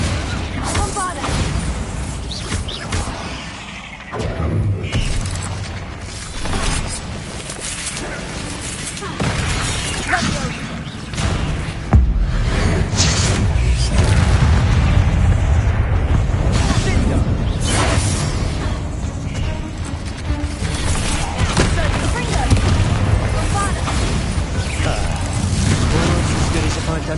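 A Bombarda blasting spell in Hogwarts Legacy, fought against spiders, sounds as loud booming explosions and shattering bursts amid whooshing spell effects and constant battle noise, with someone shouting spell names over it.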